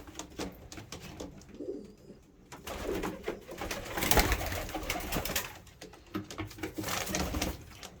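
Pigeons in a coop coo close by in soft, repeated throaty calls, layered with rustling and wing flutters, with the activity swelling toward the middle of the clip.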